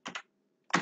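Computer keyboard keys pressed while entering a web address, two quick close taps followed by a pause and another key press, crisp and near in a quiet room.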